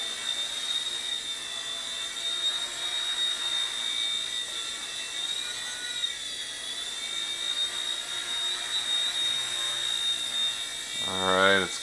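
Small Hisky HFP100 V2 RC helicopter hovering indoors, a steady high-pitched rotor and motor whine with a sharp tonal hum that wavers slightly as throttle shifts, close by and continuous.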